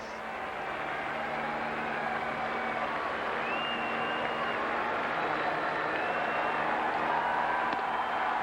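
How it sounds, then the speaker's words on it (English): Bleacher crowd at a 1999 Red Sox home game against the Rangers applauding through a standing ovation, a steady distant wash of clapping and cheering spread across the stands with faint stadium murmur beneath. "Fans on their feet out there. Big round of applause. Somebody's getting a standing ovation."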